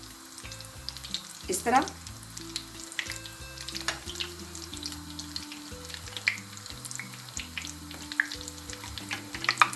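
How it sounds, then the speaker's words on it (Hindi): Cheese rolls fry in hot oil, giving a steady close sizzle and crackle with scattered pops and a few utensil clinks, while a person speaks briefly over it. "ये देखें फ्राई होना शुरू हो गए।"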